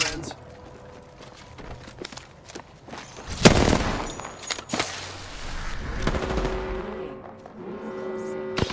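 Gunfire in Apex Legends on World's Edge, scattered close shots and rapid bursts with a loud crack midway, mixed with game voice lines and footsteps.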